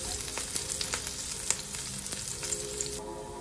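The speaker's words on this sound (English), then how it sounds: "we're going to add our chopped garlic. We're gonna mix this around in the pan until it starts to turn brown." Chopped garlic fries in a pan and is stirred, a steady close sizzle with scattered crackles and pops.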